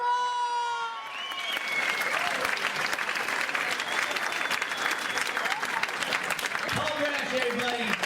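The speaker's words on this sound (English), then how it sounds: "I want you to put your hands together and clap and cheer" A live comedy club crowd at the Holy Temple of Ha Ha bursts into sustained, loud applause and cheering to welcome comedian Tom Rhodes on stage, dense steady clapping with shouts that hold for several seconds.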